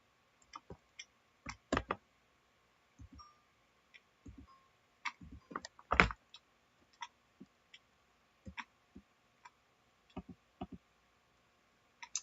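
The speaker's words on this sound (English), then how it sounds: "And we'll just shuffle them up and put them out like this." Location cards for a board game being shuffled and laid out on a table, heard as scattered soft clicks and taps with a few sharper snaps, close and quiet, with no talk.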